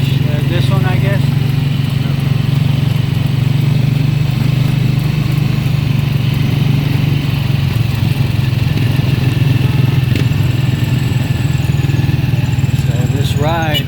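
A jeepney engine drones steadily through a ride in San Carlos City, Pangasinan, Philippines, a constant loud low rumble with faint rattles over the full length.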